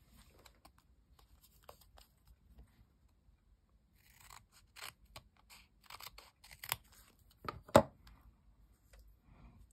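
Scissors snipping strips of scrap paper for journal crafts, a series of quiet, close, irregular cuts building to a sharper snip near the end, no voices.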